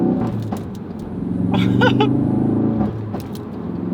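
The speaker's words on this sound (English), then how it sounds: "Oh, the shifting, the pops between the shifting." A Ford Focus RS engine hums close by, then a short burst of sharp exhaust pops and crackles comes between gear shifts before the engine note settles again.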